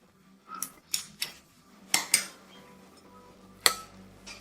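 Carrot roll cheese filling of processed cheese and pepper is stirred in a bowl, giving several sharp, close utensil clinks and scrapes at an uneven rhythm, with no talking.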